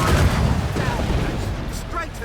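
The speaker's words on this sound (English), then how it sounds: "Ready to fire, Captain! Cannon ready!" Ship cannons boom in a naval battle in Assassin's Creed Rogue, heavy blasts and rumbling fire rolling together with shouted voices over the din.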